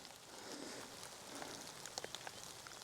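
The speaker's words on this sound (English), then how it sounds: "I think it's raining again." Rain falling outside: a steady, soft hiss of drizzle with a few faint, scattered drop taps near the end, quiet and distant, with no voices.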